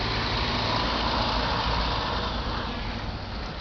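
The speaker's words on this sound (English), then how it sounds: "great big lorry coming now" A great big lorry rumbles past close by on a street, its heavy engine drone loud and steady, with broad continuous road noise throughout and no talking.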